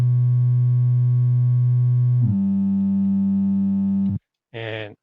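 Sustained synth bass layer from an FL Studio track, a steady harmonic tone that drops to a lower note near the middle, holds, then cuts off, followed by a short buzzy burst.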